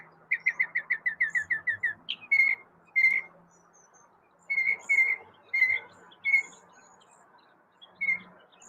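Cedar waxwings give a series of thin, high-pitched trills and whistles, a fast run of repeated notes followed by spaced single calls, with faint chirps in the background.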